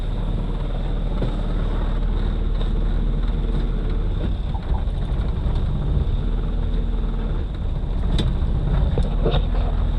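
A Jeep's engine runs steadily in a low, continuous rumble while its transmission is tested, close and fairly loud with faint wind-like noise and a few small clicks, no talking.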